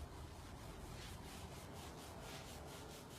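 Hands rub steadily and continuously against the body during a kidney tapping exercise, producing a faint, even swishing friction close by, with no talk.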